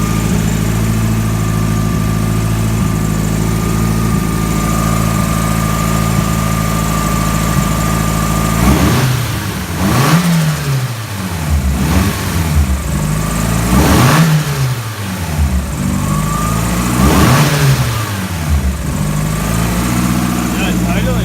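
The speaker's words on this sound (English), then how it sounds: "Yeah, it's idling a lot better." A car engine with its blow-off valve removed idles with a steady hum, then revs up several times in repeated surges that rise and fall back to idle.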